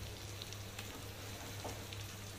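Frozen coloured bell peppers hitting a hot pan and sizzling, a steady faint crackling hiss with a low hum underneath and no talking.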